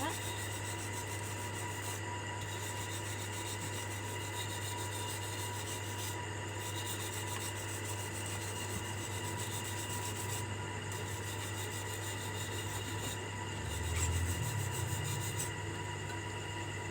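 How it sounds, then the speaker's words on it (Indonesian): A steel wire brush scrubs a freshly laid SMAW pipe weld in a continuous raspy rubbing, close and fairly steady, over a persistent low hum from the shop with a brief louder bump near the end. "kita bersihkan lagi dengan menggunakan sikat baja"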